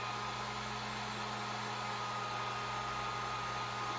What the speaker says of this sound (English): So this is a heat gun, or you can use a dryer.